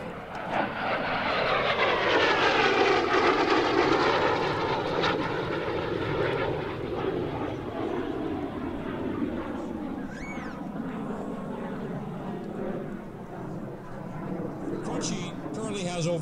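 A Warrior Aviation L-39 jet passes at an airshow, a loud sustained engine roar that swells and slowly fades with a Doppler-like sweep, continuous throughout.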